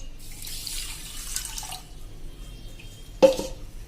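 A cup of water splashes briefly into a pan on a medium gas flame for sugar syrup, a short gush near the start followed by a quieter trickle, then a sharp sudden splash near the end.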